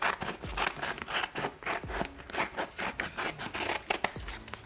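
Scissors cut adhesive vinyl for a layered craft piece with a continuous run of close, soft snips and scraping slices, fairly quiet and with no talk.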